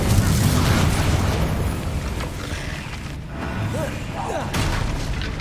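Confringo fire spell exploding in the video game Hogwarts Legacy, a loud, sustained booming burst that fades slowly beneath continuous game noise, with a few fainter pops and whooshes afterward.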